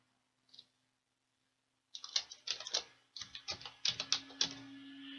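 Computer keyboard typed on in a few quick bursts of crisp clicking keystrokes, close and clear against a quiet background with a low hum.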